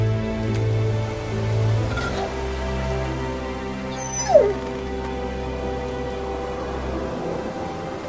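A hungry dog whimpers and yips in short, thin cries over a low steady hum, fairly quiet and close, with one brief sharper whine partway through.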